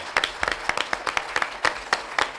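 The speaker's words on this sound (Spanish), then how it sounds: "a quienes yo pido desde luego un aplauso" A small radio studio audience on the Aragón program 'Cada Día Más' claps in brief, scattered bursts, individual hand claps standing out near and sharp rather than merging into a full roar.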